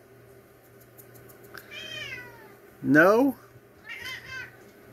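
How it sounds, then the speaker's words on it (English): A domestic cat meows several times in a cat fight, one loud drawn-out rising yowl standing out among shorter calls, while someone talks over it nearby. "They having a cat war over there."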